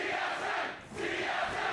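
An arena crowd at a 2015 LCS North America spring esports match between Team SoloMid and Counter Logic Gaming roars and chants in a dense, continuous wall of voices, dipping briefly before surging again.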